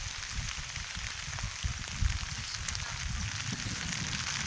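Steady rain falls during a downpour over sugarcane seedling trays, with runoff water flowing; a constant soft hiss of drops continues throughout, fairly faint, with a few heavier thuds.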